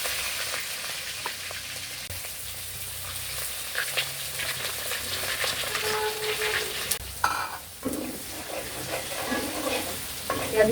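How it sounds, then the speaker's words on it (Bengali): Chopped onions fry in a pan after prawns have been lifted out, giving a steady close sizzle with repeated stirring scrapes and a louder clatter of the utensil near the end. "পেঁয়াজগুলো একটু ভাজা ভাজা করে নিচ্ছে"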